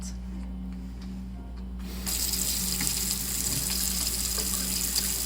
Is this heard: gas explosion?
no